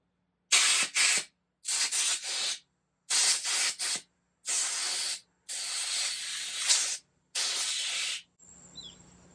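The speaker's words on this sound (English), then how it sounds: "Air hose works well." Compressed air hose blowing out Raptor 250 brake parts in six loud, close bursts of hissing spray, each lasting about a second, followed by a quiet tail.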